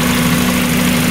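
A Mazda Miata engine idles steadily with a loud, constant low hum and a smooth mechanical drone, close up and uninterrupted, no voices.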